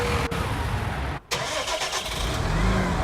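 A farm vehicle engine in Farming Simulator 19 runs loud and close with a steady mechanical hum, briefly cutting out for a moment partway through before resuming, with no one talking over it.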